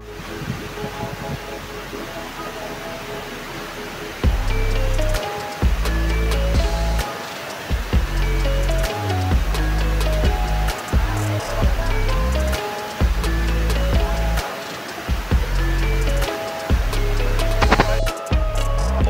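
Roaring rush of Hyatrung waterfall in Nepal, heard close and loud, a broad steady wash of falling water that swells in after a quieter opening and continues with splashing texture.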